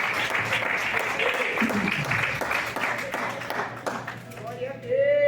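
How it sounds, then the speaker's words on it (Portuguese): A church congregation claps during a Portuguese-language service, a dense, steady patter of many hands that fades toward the end as a preacher's voice speaks over it. "pode bater palmas, pode exaltar a Jesus."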